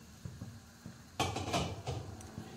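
A lid clatters onto a cooking pan holding young jackfruit mixed with salt and turmeric, giving a few sharp metallic clanks close by, with quieter kitchen handling before it.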